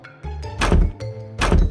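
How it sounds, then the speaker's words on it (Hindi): Heavy thuds pound on a door in an animated story, two loud clustered knocking bursts over a low rumbling music bed, with no speech. "उनको बाहर से दरवाजा ठोकने की आवाज सुनाई देती है"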